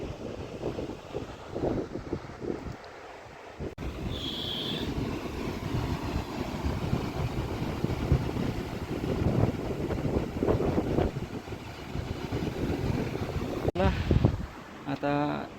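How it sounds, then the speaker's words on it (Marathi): Wind blows through a window opening at Kelve Fort in Palghar as a steady, close, buffeting rumble on the microphone that lasts the whole stretch, with gusts swelling and easing. "या खिडकीमध्ये बसल्यानंतर आपणाला खूपच हवा येण्यासाठीच खूप चांगला मार्ग आहे"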